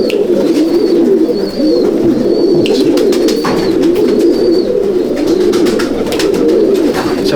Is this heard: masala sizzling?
no